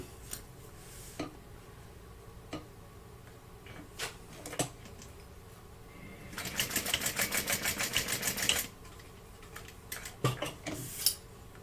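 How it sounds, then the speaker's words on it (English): A sewing machine stitches down part of a handmade pack: scattered clicks and handling noises, then one loud burst of rapid, even stitching lasting about two seconds, followed by more light clicks. "now we're going to stitch that down"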